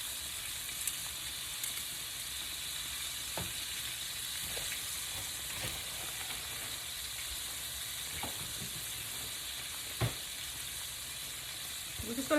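Shrimp frying in a pan for a seafood stuffed eggplant, a steady close sizzle and hiss with a few soft clinks and taps scattered throughout.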